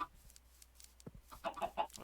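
Chickens clucking in a coop in the video game Minecraft, a few short soft clucks spaced irregularly, quiet with no talk.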